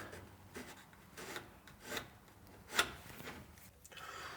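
A line being drawn with a pencil across a wooden boat plank, faint close scratching and rubbing strokes with one sharper tick partway through, in a quiet workshop.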